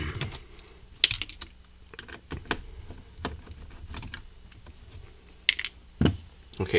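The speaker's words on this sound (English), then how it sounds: "Now we're going to remove 3 silver screws connecting the keyboard." Screws being backed out of the keyboard of an HP Dv9000 laptop during disassembly: a string of small clicks and scrapes close up, irregular and fairly quiet, with a few sharper knocks.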